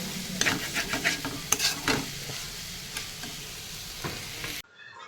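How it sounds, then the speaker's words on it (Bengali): Drumstick flowers frying in one pan while fish curry with potato and eggplant cooks in another, close sizzling with repeated stirring and scraping strokes, then a sudden cut to near silence. "একদিকে সজনা ফুল ভাজা হচ্ছে আর একদিকে মাছ হচ্ছে"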